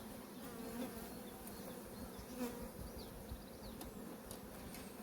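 A steady, continuous buzz of many honey bees droning close by at a hive, with no speech.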